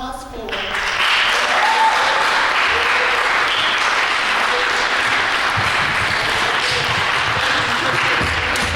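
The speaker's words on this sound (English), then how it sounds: "So please give another round of applause for" Audience applause fills a hall at an evening event honoring a servicemember, starting quickly and holding steady and loud for about eight seconds of sustained clapping.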